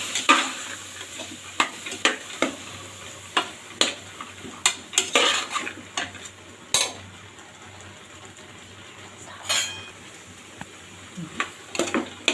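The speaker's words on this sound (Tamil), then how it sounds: "இப்போ மசாலாவோட சேர்த்து நல்லா கிண்டியாச்சு" Soya chunks are stir-fried with masala and tomato in a pan, heard as soft sizzling beneath sharp, irregular clicks and scrapes of a spoon against metal, with brief quieter gaps and no talking.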